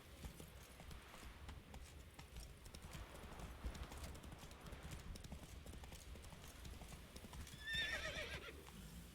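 Hooves of the horse Roach clip-clopping along in The Witcher 3: Wild Hunt, a steady trot heard at moderate distance over game ambience, with a short neigh or whinny rising near the end.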